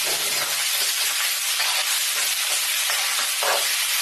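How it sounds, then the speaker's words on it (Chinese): Chicken drumsticks and aromatics sizzle hard in hot oil in a wok, a loud, steady, close frying hiss with light stirring clatter throughout. "然后爆香料头， 也放鸡腿爆香一下"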